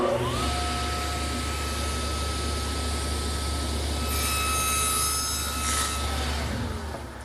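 A table saw cuts a tenon in wood for a garden bench, with the blade set 3/8 inch deep. The motor whines loud and steady throughout, then begins to wind down at the end.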